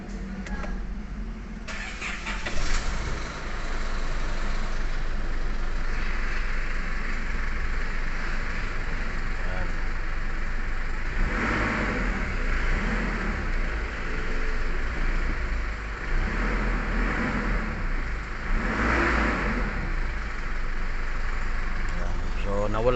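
An Isuzu MU-X SUV engine cranks and fires after EGR cleaning and a check-engine reset, then settles into a steady, close idle that runs on for about twenty seconds.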